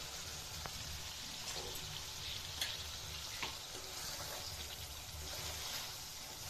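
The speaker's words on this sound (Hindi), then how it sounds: "अंडों को थोड़ा मसाले के साथ हम पकाएंगे" Eggs cook in a pan of spiced curd masala over a medium flame, a steady soft sizzle and bubbling with faint stirring scrapes running throughout, no voices.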